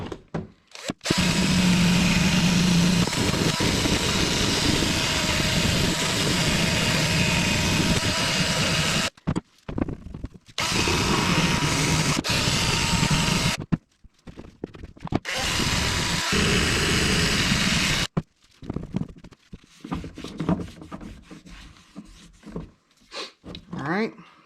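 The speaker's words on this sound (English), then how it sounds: "I'm just going to clean these little areas up a little bit with just the wire wheel." A wire wheel scrubs pitted metal parts off a Taylor Dunn Model R, a loud sustained grinding whir in long bursts with brief pauses, broken up toward the end.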